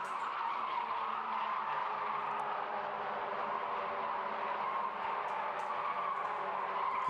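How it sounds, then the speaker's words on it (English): Race car tyres squeal and skid continuously in the MX5 Cup at Silverstone, a sustained high-pitched screech heard at a distance over engine noise without a break. "lots of squiggling of tyres"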